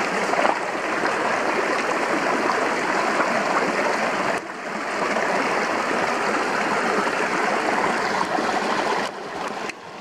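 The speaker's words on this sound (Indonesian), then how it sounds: "ini sungai ya, ada sungai" A river stream flows steadily nearby, a loud, continuous broadband rush of moving water that holds unbroken from start to end, with no talk.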